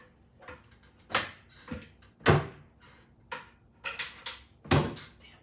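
Several wooden kitchen cupboard doors bang and clatter shut in irregular succession, close and fairly loud, with soft shuffling between the knocks.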